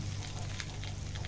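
Large chunks of mango sizzle and crackle steadily in hot oil in a pan while being fried for a sweet-sour pickle, a close, continuous fizz with small pops and no voices.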